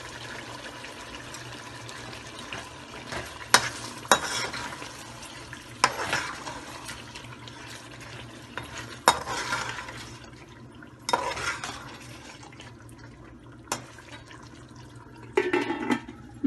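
Biryani ingredients frying in a pot with a steady low sizzle, broken by several louder scrapes and knocks as a spoon stirs against the pot, with no talking.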